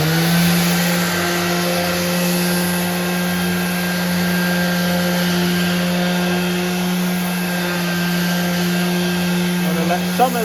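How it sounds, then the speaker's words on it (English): A palm sander whines steadily against welded metal shelf brackets, a loud close motor drone with a constant buzzing tone and grinding texture that continues without pause. "now we're going to hit these with a palm sander and clean these guys up"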